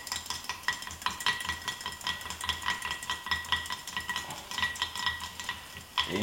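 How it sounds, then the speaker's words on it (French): A stick steadily stirs resin mixed with hardener inside a small container, producing a continuous, close scraping and clicking texture with an even, repetitive rhythm and no voices. "J'ai plus qu'à touiller maintenant ma résine avec le durcisseur."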